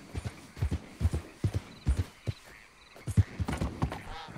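Horse hooves clip-clop at a walking pace in the Red Dead Redemption 2 video game, a steady close rhythm of hoof strikes with a faint whinny near the end.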